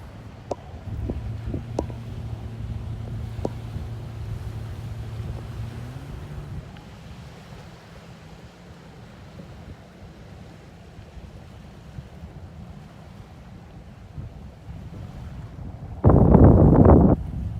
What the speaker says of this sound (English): Boy, it's windy.